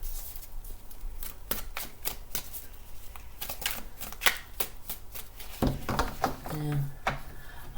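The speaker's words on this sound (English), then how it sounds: "we'll just give the cards a shuffle here" Tarot cards are shuffled by hand in quick, crisp riffles and taps, close and clear, with a brief pause and rustle near the end; no talking.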